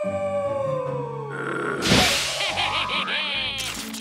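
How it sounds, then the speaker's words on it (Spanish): A long, wavering cartoonish yeti howl rises and falls, then gives way to a thump and quick comic clattering effects. "Y le gusta mucho estar aullando."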